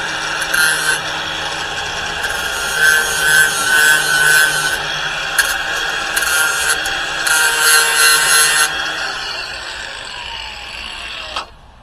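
A metal piece is hand-filed to put a small bevel on its end for a welded cross, with steady rasping strokes running continuously close up, ending in a brief scrape and then quiet.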